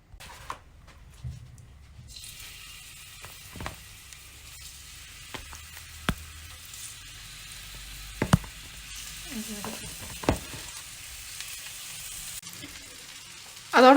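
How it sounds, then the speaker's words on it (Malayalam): Sardines rubbed with chilli powder and salt frying in a pan, a steady close sizzle broken by occasional sharper pops and crackles, with no talking. "ഇനി നമുക്കത് ഫ്രൈ പാനിലേക്ക് ഇട്ട് കൊടുക്കാം"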